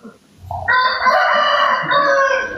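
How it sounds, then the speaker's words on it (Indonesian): A rooster crows loudly and close by in one long, drawn-out call that follows a short low sound at the start. "Sebelum ayam berkokok 3 kali nih."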